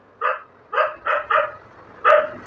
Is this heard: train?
no